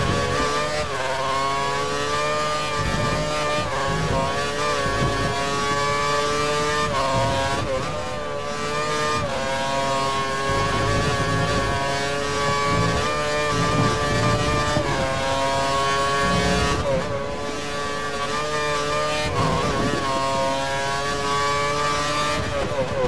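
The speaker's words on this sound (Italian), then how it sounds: "ha impostato il motore sulla massima potenza" A Formula 1 car engine from the F1 2013 video game at the Indian Grand Prix in New Delhi screams at full power, a loud sustained high-revving whine with quick gear-shift dips throughout and no talk over it.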